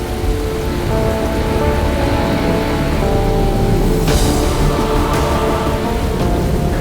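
Steady, heavy rain pours down in a constant wash of noise, close and loud, with no voices.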